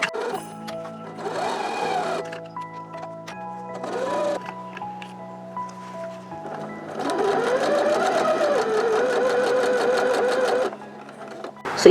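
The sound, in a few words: sewing machine stitching jeans fabric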